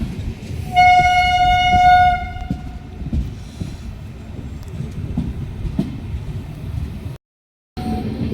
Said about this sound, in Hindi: हमारी गाड़ी यहाँ पे पहुंची है टोटल 2 घंटे लेट।